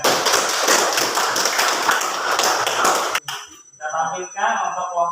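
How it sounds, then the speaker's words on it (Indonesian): Students in a classroom applaud together in a brisk burst of clapping that stops abruptly, and then a teacher begins speaking. "Tepuk tangan buat kalian."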